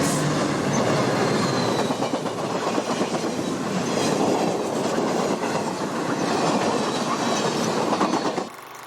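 A GE P-40 diesel-electric locomotive rumbles steadily past at close range, broadband roar with rhythmic wheel clatter, fading out abruptly at the end.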